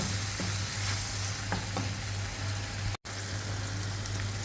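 Ground beef keema with small-cut potatoes frying in a pan, with a steady close sizzle, a low constant hum beneath and a few soft scraping stirs early on, with no talk.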